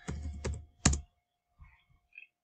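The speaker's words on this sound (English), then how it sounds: "So let me go to, and type this in." Keys on a computer keyboard clack in a quick cluster of close, crisp taps, followed by a few fainter scattered keystrokes in an otherwise quiet room.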